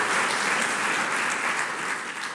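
Sustained audience applause from a crowd at a public university lecture event, dense and steady clapping throughout with no talk over it.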